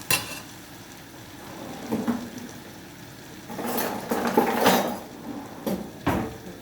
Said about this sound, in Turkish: Bu Mantımızın suyundan da biraz yağın içine koyalım ki hem salçamı gözlesin hem lezzetli olsun.